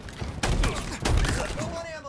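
A thrown grenade detonates amid the chaos of a Halo Infinite multiplayer match on the Streets map, with sharp bursts and thumps layered over gunfire and game effects.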